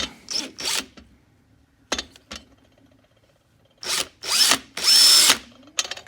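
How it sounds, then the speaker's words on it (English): A power drill boring out an output shaft seal on a Yamaha Raptor 660R ATV, running in short, loud bursts with whining spin-ups and pauses between them, the last few bursts longer and harsher. "You're going to drill it out."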